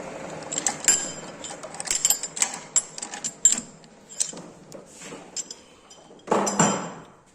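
A lathe turns St3 steel against a Chinese carbide insert, giving irregular metallic clinks, taps and a thin high ringing in short bursts, fairly close and moderately loud.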